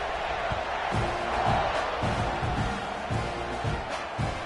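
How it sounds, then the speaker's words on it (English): Stadium crowd at a Michigan vs Texas A&M college football game buzzing after a short touchdown run, a dense, steady roar of many voices with occasional louder whoops, broad and sustained throughout. "this crowd is buzzing after that last score"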